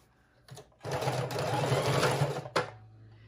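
A sewing machine stitches a zigzag on a fabric junk journal cover, starting after a couple of brief bursts and running in one steady, close, loud whir for nearly two seconds before stopping.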